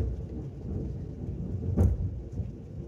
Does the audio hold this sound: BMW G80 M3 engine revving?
no